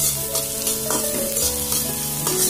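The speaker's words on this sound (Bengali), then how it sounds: "গরম তেলে পেঁয়াজ আর মরিচটাকে ভেজে নিব।" Onion and chili frying in a little hot oil over full heat for egg pasta noodles, a loud continuous sizzle with occasional stirring scrapes and no talk.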